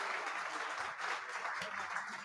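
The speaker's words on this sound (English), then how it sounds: "Please give them a warm round of applause." Faint, distant applause from a small audience at a tasting event, a soft steady wash of clapping with a low voice briefly underneath.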